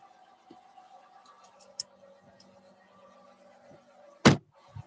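A car door thumps shut loudly near the end as someone climbs into a car on the Van Horne Estate on Ministers Island, after quiet interior rustling and small clicks.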